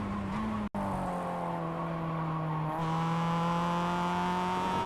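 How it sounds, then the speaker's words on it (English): Engine of a Mazda MX-5 in iRacing at Winton National Raceway, holding a steady tone, dropping briefly as the car brakes and shifts down into second gear, then droning on. "hit the brakes and shift down into second gear"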